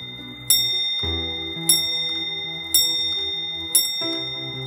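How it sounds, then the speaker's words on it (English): English longcase grandfather clock with an old movement striking a cast iron bell: four evenly spaced metallic strikes, each ringing and slowly decaying, close and clear over a faint steady tick. "It strikes a cast iron bell on the top of the hour."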